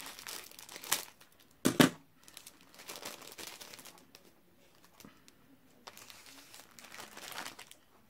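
Plastic packaging being cut open with scissors gives close, irregular crinkling and crackling, with a few sharp louder snips and rustles scattered between quieter handling noises and no talk.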